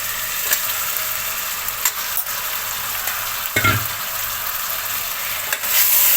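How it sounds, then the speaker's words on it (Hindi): Mutton pieces frying in a spice mixture for korma, a steady loud sizzle with a few stirring scrapes and clatters, swelling louder near the end. "मटन डाल के इसको अच्छे से हमें फ्राई करेंगे।"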